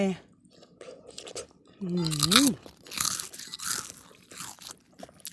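Someone bites into a crunchy ripe green Sawoei mango, giving a few sharp crisp crunches followed by chewing, close up, with a voice humming and speaking softly around the bites.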